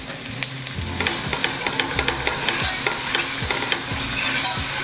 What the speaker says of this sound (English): we're gonna whisk this butter and flour into kind of a paste